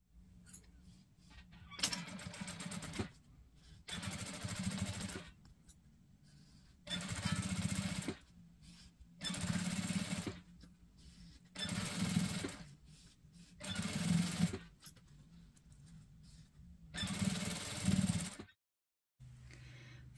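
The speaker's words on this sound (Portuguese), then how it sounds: "Aí fica fácil de estar posicionando e iniciando a minha costura de segurança." A sewing machine runs in about eight steady bursts with short pauses between them, stitching a safety seam along a zipper channel, close and fairly loud with no talking.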